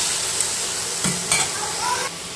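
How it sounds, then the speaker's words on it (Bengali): Okra frying in a pan at home, a continuous close sizzle punctuated by a few brief spatula scrapes and clinks over about two seconds. "তো ঢ্যাঁড়স ভাজা হচ্ছে"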